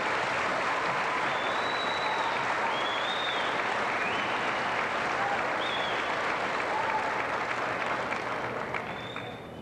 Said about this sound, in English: Let's give these seniors a round of applause.